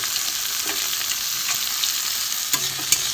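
A fish filling with green chilli and tomato fries in a pan, giving a close, steady hiss of sizzling oil. A couple of brief spoon taps come near the end, with no voices.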